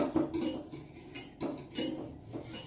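Whisk clinking against a bowl while beating egg yolks for macarons, a run of quick metallic taps and scrapes in uneven bursts, close and fairly quiet.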